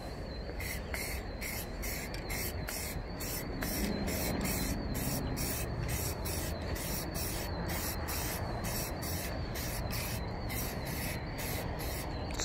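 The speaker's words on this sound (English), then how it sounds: "Keep the paint bottle at a certain distance every time you spray." Black spray paint from an aerosol can coating Jeep Wrangler trim, a run of short, evenly spaced hissing bursts with a constant background hiss, close and steady throughout.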